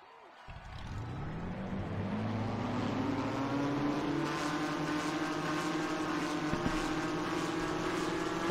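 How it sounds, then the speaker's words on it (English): Race car engines fire up for the Food City 500 at Bristol, a low rumble rising quickly and settling into a sustained, layered drone of many engines idling together, with a faint voice barely audible. "Drivers, start your engines!"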